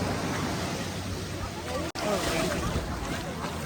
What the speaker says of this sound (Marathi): हे बघा लाटा कशा येतात